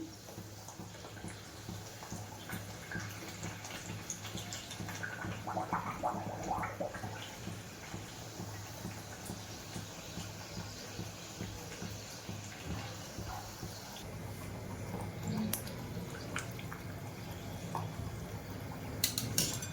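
Puris frying in hot oil over a full flame while making traditional damti ladoo, a Diwali sweet; a steady, dense sizzle and bubbling carries on throughout with no talking.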